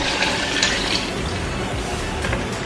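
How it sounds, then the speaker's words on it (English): Water pours steadily into a cooking pot holding curry chicken feet, a continuous close splashing stream with no break. "I'm going to add a little more water to cover whatever is in the pot"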